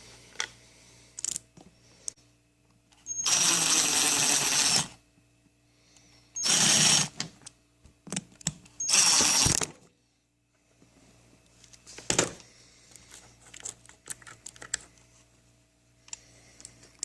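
A power drill drives screws into the soles of winter boots to make studded footwear: three separate whirring bursts of a few seconds each, close by, with small clicks and handling noises between them.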